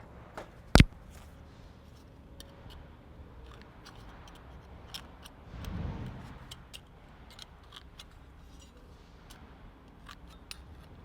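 Snips cutting metal roof flashing near a penetration on a Metal Sales Image II roof: one sharp, loud clip near the start, then faint rustling and a soft low thump, with no talking.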